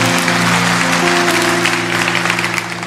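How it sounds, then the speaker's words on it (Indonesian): A church congregation applauds during a sermon, its loud clapping blending with a sustained organ or keyboard chord underneath. "Kasih tepuk tangan untuk Tuhan."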